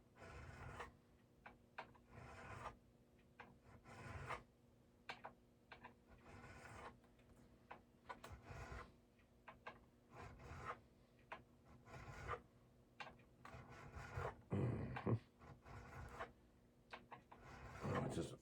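A metal file scrapes across the frets of an Ibanez guitar in repeated rhythmic strokes, close and quiet, with brief pauses between passes.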